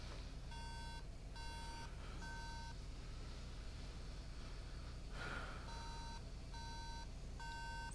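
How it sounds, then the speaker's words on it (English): A MacBook with a RAM slot failure sounds its startup error code: groups of three clear, tonal beeps that repeat in a regular pattern over a constant background hiss, with a brief breathy noise between groups. "Three beeper. Okay, so this has got RAM slot failure most likely"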